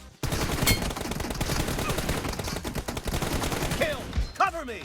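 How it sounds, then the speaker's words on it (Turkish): Rapid PUBG Mobile gunfire crackles in a dense, nearly continuous burst of sharp shots for several seconds, loud and close, ending with a few scattered impacts. "bir oradan vuruyorum, bir buradan vuruyorum"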